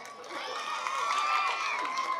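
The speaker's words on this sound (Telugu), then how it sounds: "అందరూ గట్టిగా ఒకసారి క్లాప్స్ కొట్టండి." A large crowd at a public gathering claps and cheers together, a dense steady roar of clapping mixed with shouting voices that holds throughout.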